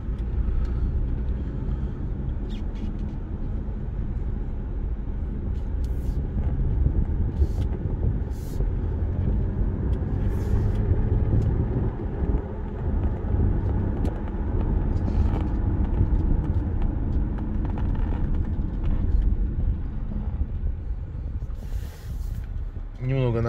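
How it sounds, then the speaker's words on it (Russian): Inside a 2011 Audi A8 3.0 with an automatic gearbox and 216,000 km, a steady low road and engine drone fills the cabin while someone talks throughout. "Вот я еду сейчас как на Audi A8"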